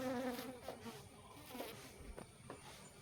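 Honey bees buzz at the narrow entrance of a hive box, a faint, steady drone with individual insects passing close by.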